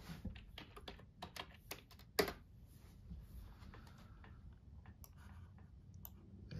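Fingers tap commands into a terminal on a computer keyboard, a quiet, close run of irregular clicks with one sharper keystroke early on, no one speaking.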